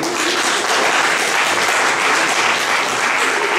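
Audience at a quiz match launch applauding; dense, loud, sustained clapping holds steady throughout with no talk over it.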